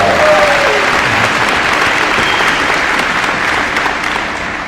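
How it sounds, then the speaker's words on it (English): Audience at a school grand opening ceremony bursts into loud, dense applause that holds steady and then begins to taper off toward the end. "let's give her a big round of applause"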